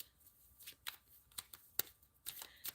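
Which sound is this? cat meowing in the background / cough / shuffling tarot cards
shuffling tarot cards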